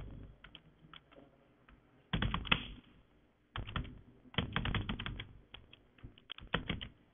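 Keys clatter on a computer keyboard during office software work, in uneven bursts of quick taps with short pauses between, close and fairly quiet.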